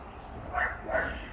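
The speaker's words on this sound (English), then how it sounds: "Don't mind the dog over there." A dog barking in the background near a backyard amateur radio antenna setup, two short barks about a third of a second apart, moderately distant over a low ambient hum.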